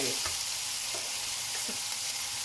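Chicken sizzles steadily in a pan with an Indian-style sauce, a close, continuous frying hiss with faint stirring scrapes and no talk.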